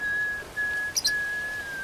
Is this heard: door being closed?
no